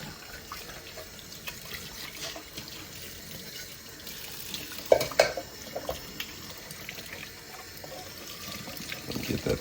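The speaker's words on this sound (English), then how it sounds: "all the parts you're just going to keep on rinsing with warm water" Running tap water splashing and trickling over Ninja NeverClog cold press juicer parts being rinsed in a sink, steady and moderately quiet, with occasional clinks.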